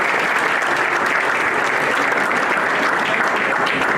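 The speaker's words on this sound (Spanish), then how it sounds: "creo que todos y cada uno de ustedes merece un aplauso" An audience at a conference event claps in steady, dense applause, loud and continuous throughout with no voices on top.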